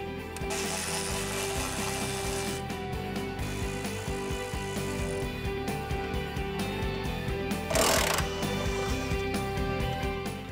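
A ratchet wrench clicks steadily while backing out the subframe bracket bolts on a 2024 Mustang, a continuous mechanical ratcheting rattle up close with a brief louder burst partway through.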